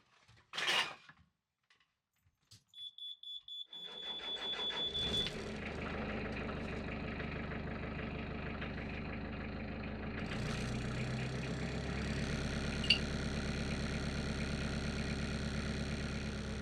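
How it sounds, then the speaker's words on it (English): Narrowboat diesel engine starts and settles into a steady low idle, with a continuous rattle and buzz from loose fittings aboard the boat, close and unbroken after a few brief knocks at the start. "Part of the reason why I don't like running the engine like this is because it makes everything rattle"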